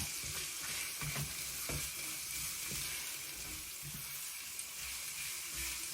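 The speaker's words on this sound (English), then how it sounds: "So the garlic is starting to catch a little bit." Garlic frying in a pan for Filipino pancit with noodles and broth nearby, a close, steady hiss of sizzling oil with faint stirring clicks and no voices.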